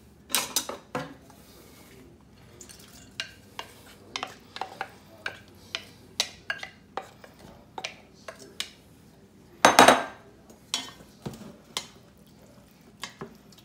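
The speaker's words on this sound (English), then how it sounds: "I'm gonna dump this in there now and mix it up" Eggs and bacon are mixed in a bowl with a utensil, giving a series of short scraping, clinking and creaking strokes at an irregular pace, close and fairly quiet, with one louder rattling burst partway through.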